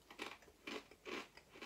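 Thick Brie and cranberry flavour crisps crunch close up in four quick, crisp bites, each a short crackling burst with brief gaps between, fairly quiet overall.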